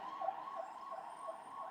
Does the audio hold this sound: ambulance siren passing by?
yes